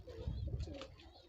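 A double-eyelid high flyer pigeon gives a soft, brief coo close by, quiet and low against a faint background.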